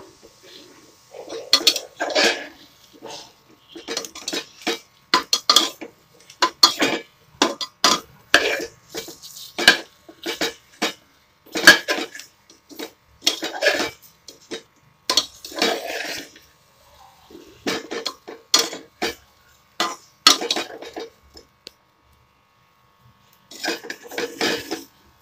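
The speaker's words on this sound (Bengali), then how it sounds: "এবার সামান্য নাড়াচাড়া করে মশলাটা খানিকটা মাখিয়ে দেওয়ার চেষ্টা করছি।" Fish and vegetables being stirred in a pot to coat them with spices for an oil-free stew, repeated clinks and scrapes of a utensil against the pot in short irregular bursts with pauses, close and fairly loud.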